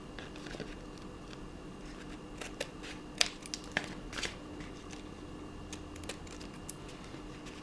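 Quiet, scattered snips and crisp clicks of big, clunky scissors trimming wallpaper, a few sharper cuts standing out against a soft background hiss.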